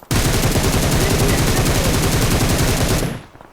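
Rapid automatic gunfire in PUBG Mobile, a loud, close, unbroken burst of shots for about three seconds before cutting off abruptly.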